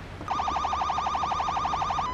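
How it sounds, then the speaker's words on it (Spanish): A police car horn from the Police Simulator video game blares close and loud as a rapid, warbling electronic wail that pulses evenly for about two seconds before cutting off. "ese claxon de policía no me gusta"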